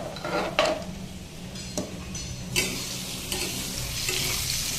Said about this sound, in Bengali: নেড়ে চেড়ে হতে দেবো হলুদটা মিশিয়ে দেবো